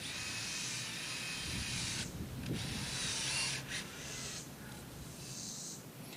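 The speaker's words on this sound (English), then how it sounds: "Temporarily screw our stencil into the center." A power driver screws a stencil onto the center of an axe throwing target, whirring in loud, hissing bursts with brief pauses between runs.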